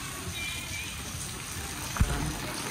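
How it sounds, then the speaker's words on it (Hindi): Heavy rain pouring down as a steady, dense, close hiss that fills the whole stretch without letting up, broken once near the end by a single short thump. "बारिश बहुत तेज हो"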